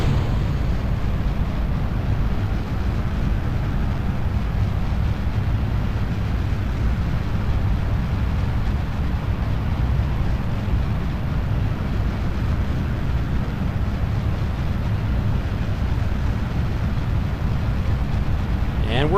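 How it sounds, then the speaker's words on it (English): Rocket engines fire at liftoff in the Kerbal Space Program game, a loud, dense, unbroken roar that holds steady throughout. "we're launching in 3, 2, 1, fire."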